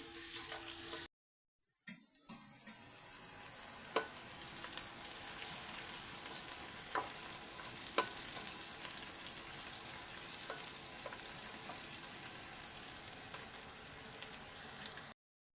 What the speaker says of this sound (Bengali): তো পেঁয়াজটাকে আমি এখন ব্রাউন কালার করে নেব ভেজে।